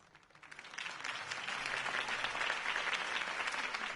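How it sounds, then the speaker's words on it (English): A crowd applauds a campaign speech for a city election, the clapping swelling from faint to a steady, dense roar of many hands that continues throughout. "could have heard that applause"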